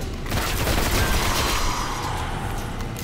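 Sustained rapid gunfire from the video game Destiny on Xbox One, a dense continuous burst of shots and blasts running loudly through the whole stretch with no talk over it.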